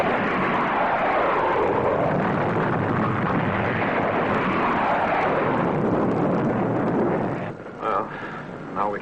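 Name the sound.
missiles firing in 1954 sci-fi serial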